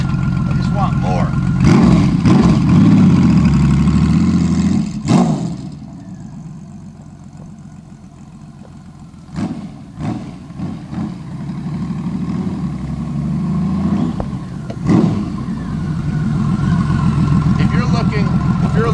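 A 1997 Honda Valkyrie GL1500 motorcycle engine idles loudly and close, drops away, then blips in a few short revs before it builds back to a steady rumble.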